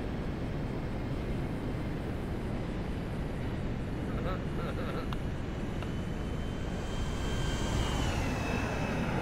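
Aircraft engine drone from a plane flown in Grand Theft Auto V, a steady broadband roar throughout with a rising whine near the end.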